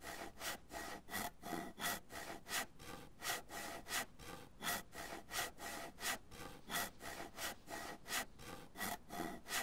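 Handsaw cutting wood in the DayZ video game, a steady rhythmic back-and-forth rasp of roughly two strokes per second, repeated evenly and heard alone at a moderate level.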